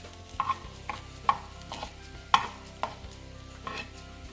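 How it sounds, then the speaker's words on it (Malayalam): A spoon scrapes and taps against a pan while coconut thoran is stirred after grated coconut goes in, with irregular clinks and scrapes up close and a faint background hum. "തേങ്ങ ചേർത്തതിന് ശേഷം 2 മിനിറ്റ് നമുക്കൊന്ന് ഇളക്കി കൊടുക്കാം"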